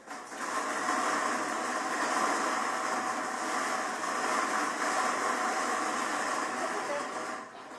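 A lottery draw machine mixes the entries at a steady whirring drone, continuous and fairly loud for nearly the whole stretch before tapering off at the end.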